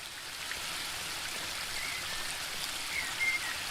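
Flowing water in The Book of Unwritten Tales 2, a soft, steady stream-like rush with faint trickling detail, continuous and fairly quiet throughout.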